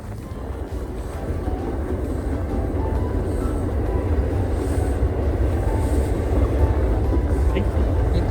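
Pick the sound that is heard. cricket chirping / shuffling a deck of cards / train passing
train passing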